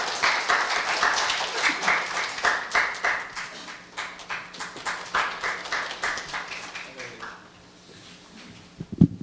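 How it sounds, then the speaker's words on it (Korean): Audience applause greets an official invited to speak at a Korea University fundraising forum, with rhythmic, steady clapping that gradually thins and fades, followed by a few handling noises at the end. "박수로 맞아주시기 바랍니다."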